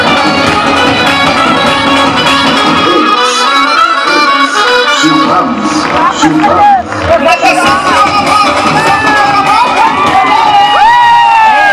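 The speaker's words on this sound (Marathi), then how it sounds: "टाळ्या वाजवा" A crowd cheers and claps for prize winners at a lively Marathi women's gathering, with a continuous loud mass of shouting, whoops and children's voices and no quiet break.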